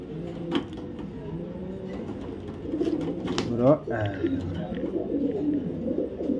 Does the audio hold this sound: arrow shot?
no